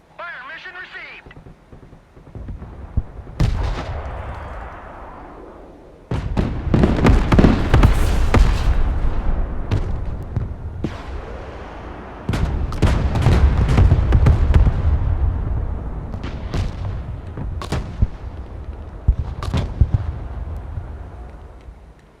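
Mortar fire mission in the Broken Arrow video game: repeated heavy booming blasts and rumbling impacts in clustered volleys, loud and close, with radio-style voice callouts over the barrage.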